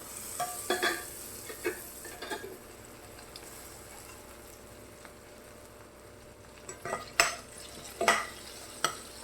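Faint sizzling of dried red chillies, curry leaves and cumin in hot oil, broken by scattered crackles and sharp clicks of stirring.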